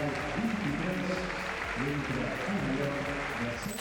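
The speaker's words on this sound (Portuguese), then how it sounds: "a torcida catalã aproveitou para homenageá-lo, o aplaudindo bastante" Steady applause from a large football crowd of Barcelona fans, a continuous wash of clapping under a busy stadium murmur, with voices talking over it.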